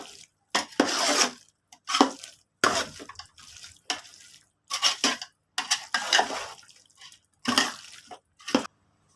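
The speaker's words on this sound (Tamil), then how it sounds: "மசாலா எல்லாமே மிக்ஸ் பண்ணிக்கலாம்." A spoon stirring chili powder, turmeric, garam masala and salt into chicken in a pan for Bangalore-style biryani, with repeated scraping and clinking strokes separated by brief pauses, close and clear.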